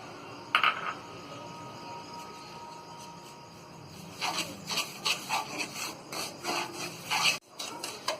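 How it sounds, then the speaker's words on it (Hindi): Semolina is stirred and roasted in ghee in a pan for rava besan laddu, with soft scraping and rubbing of a spoon against the pan, quiet at first and then a run of rhythmic scrapes. "और ये सूजी को भी हम भून लेंगे।"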